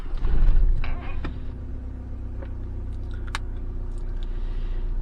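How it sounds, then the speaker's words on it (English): An Audi engine cranks briefly and catches, then settles into a low steady idle with a few faint clicks and ticks. "I'm starting the car now."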